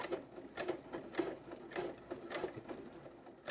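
A sewing machine runs a steady straight stitch on a fabric headband, its quiet rhythmic mechanical whir and clatter close and alone.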